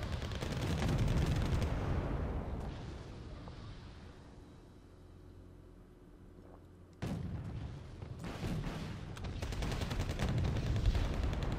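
Gunfire and explosions from the Wargame Red Dragon strategy game, with dense, loud volleys and booming shots that fade into a quieter stretch before heavy firing erupts again.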